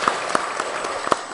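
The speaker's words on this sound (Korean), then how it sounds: "우리 축하의 박수도 한번 우리 쳐드리겠습니다." Church congregation clapping to welcome visitors during a Sunday service, a brief burst of dense, steady applause filling the room.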